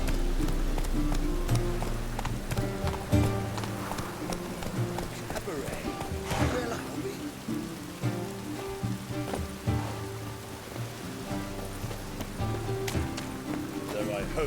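Roach the horse galloping in The Witcher 3, a steady rhythmic clip-clop of hooves running continuously under a layer of rain-like hiss and a music bed.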